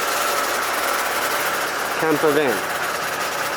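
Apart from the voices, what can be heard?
2013 Mercedes-Benz Sprinter 2500 turbo diesel engine running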